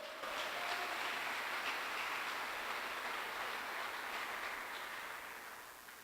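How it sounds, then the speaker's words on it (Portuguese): A church congregation applauding together, a dense, steady wash of clapping that holds for several seconds and then tapers off slightly. "Aplauda o nome do Senhor."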